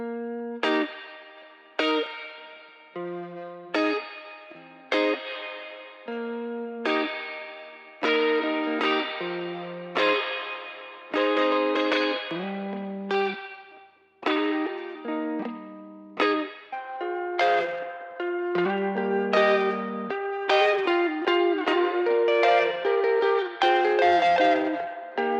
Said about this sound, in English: These are shorter, brighter sounding spring reverb units.